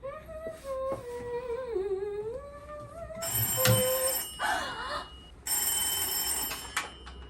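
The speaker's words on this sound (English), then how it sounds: "This is allegedly a landline phone, but it's not a landline phone." An old-style telephone bell rings in two long, loud bursts, with a whistling tone and faint noise before the first ring.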